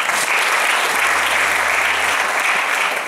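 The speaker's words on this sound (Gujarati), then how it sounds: "નવા ચહેરાને ખાસ તાળીઓથી વધાવ્યું" Loud, sustained applause from a theatre audience greeting a new performer on stage, a dense unbroken wash of clapping lasting the whole stretch with no voices above it.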